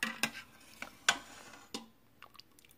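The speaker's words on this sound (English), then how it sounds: "we're going to give the inside contents a stir to see how the congee looks" A spoon stirring cooked rice congee inside an Instant Pot pressure cooker, giving a few sharp scraping clinks against the metal inner pot, spaced irregularly and fairly close, with quiet gaps between.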